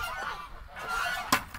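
Farm ducks honking a few times in short nasal bursts, the loudest call coming near the end, heard nearby in cold outdoor air with no talking.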